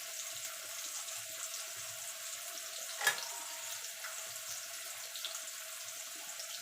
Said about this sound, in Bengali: এবার আলুটাকে লাল লাল করে ভেজে নেব।